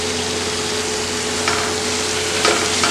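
Masala for a Malabar fish biryani, with mint and coriander leaves added, sizzles steadily in a pan, and a few faint scrapes of stirring come through near the middle and end.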